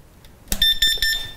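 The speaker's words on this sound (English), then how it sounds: "Once the temperature reaches the desired level, the timer will give you an acoustic signal." A Royal Catering RCMW-27S mulled wine warmer's timer sounds its acoustic signal: a sharp electronic alarm tone that starts abruptly after a quiet moment and repeats in short, loud pulses.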